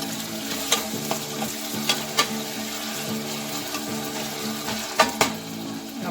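Onion frying in about two tablespoons of oil for a cheesy crab omelet, a steady close sizzle with scattered sharp clicks and scrapes of a utensil stirring in the pan, no talking.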